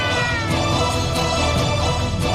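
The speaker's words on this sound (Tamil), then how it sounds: "இந்த பூனை அழற சத்தம் எங்க இருந்து வந்துட்டு இருக்கு?" A cat meows in a drawn-out, wailing cry, loud and steady over dense background noise, with no talking.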